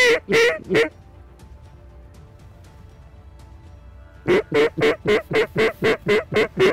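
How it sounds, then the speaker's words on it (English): Mallard ducks over a November hunting spread in South Dakota, a few loud calls at first, then after a lull a close, steady run of about ten rhythmic quacks as the flock flies in. "Ducks coming in from the right."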